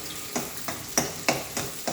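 Onions browning in oil in a pan, cooked for a katla fish and potato curry, crackle steadily under a regular rhythm of spatula scrapes, with no voices.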